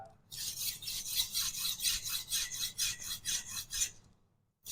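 Kitchen knife drawn repeatedly along a sharpener, about a dozen rhythmic bright rasping strokes in quick succession, close and clear, ending in near silence.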